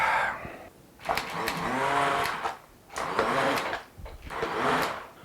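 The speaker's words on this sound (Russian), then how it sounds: "Сварил и потом быстро погружным блендером все это взбил." Immersion blender pureeing cooked pumpkin soup directly in the pot, running in three loud bursts with short pauses between them, whirring alone with no talk.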